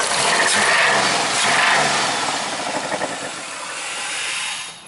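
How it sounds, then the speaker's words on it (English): Chrysler 300M engine revving hard up close, the loud roar easing back and sagging over several seconds before cutting out as the car stalls instead of returning to idle. "So after I revved it up, it didn't come back to an idle, it just stalled out"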